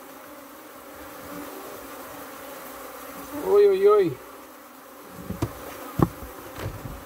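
Honey bees hover around a strong hive at close range, their steady buzzing carrying throughout while one insect flies right past and loudly sweeps by; a man's short exclamations break in near the end.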